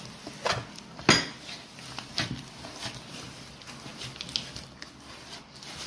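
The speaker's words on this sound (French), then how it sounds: "On travaille bien jusqu'à que notre beurre devienne comme une crème et que notre sucre fond." Butter and sugar for a cake are creamed in a bowl, with close scraping and clinking of a utensil against the bowl in irregular strokes and one sharper knock near the start. No one talks.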